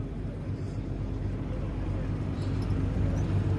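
A combine harvester with a corn header runs in a low, steady mechanical drone with a humming engine tone, moderately close and unchanging across the few seconds.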